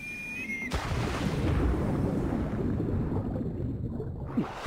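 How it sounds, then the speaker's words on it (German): In Assassin's Creed Origins, set in ancient Egypt, a sharp crack opens a long, deep, rolling thunder rumble that swells and then slowly fades, with no voices over it. "Sieht aus, als würde da hinten ein ganz deftiges Gewitter kommen."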